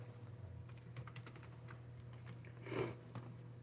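Quiet run of typing on a computer keyboard, a steady patter of small clicks with one louder burst near the end, over a low constant hum and no speech.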